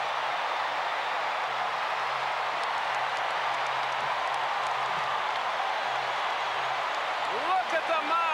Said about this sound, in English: Look at the mob scene at home plate and listen to this crowd.